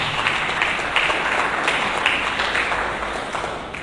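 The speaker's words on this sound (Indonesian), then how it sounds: "Mari berikan tepuk tangan." A church congregation claps during a Sunday sermon, a moderate, sustained roll of many hands with a few sharper claps standing out, no talking over it.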